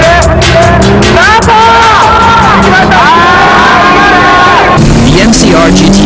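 Nissan GT-R and Silvia race cars launch together into a five-lap battle from a reverse-grid standing start, loud engines revving and rising in pitch through the gears close by, over a steady roar of crowd noise.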